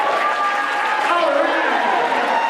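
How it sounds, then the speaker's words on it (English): An audience at a charity tea fundraiser auction claps in a short, even burst of applause, with voices heard over the clapping. "Let's give her some applause."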